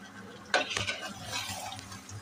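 Potatoes dropped into hot oil for a Bengali aloo dum, with a sudden sizzle burst followed by scraping stirring and a continuous frying hiss.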